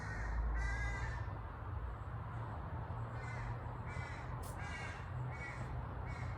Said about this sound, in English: Oh, that baby crow.